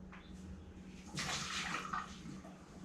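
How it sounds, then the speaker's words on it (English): Water poured out of a pressure canner in a kitchen while canning venison, a broad splashing pour that swells for a couple of seconds then tapers off, close and moderately loud with no talking. "So I'm gonna pour a little bit out. I'll take about 2 cups out."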